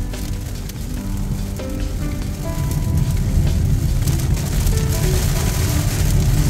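Rain pours on a moving car during a road trip, a loud dense patter and hiss over the low rumble of driving, with no talking.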